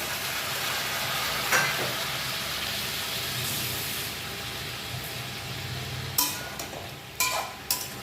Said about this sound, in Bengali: মশলাটা আমি সবজির সঙ্গে ভালো করে কষে নেব।